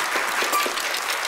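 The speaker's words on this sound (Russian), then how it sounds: "Хлопать, друзья, потому что они справились." Short burst of studio audience clapping on a Russian television game show, steady and moderately loud for just over a second with no talk over it.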